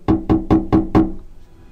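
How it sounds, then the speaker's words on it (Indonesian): Five quick, evenly spaced knocks on a bathroom door, loud and close, with a short fading resonance after the last rap. "tiba-tiba pintu kamar mandi diketuk."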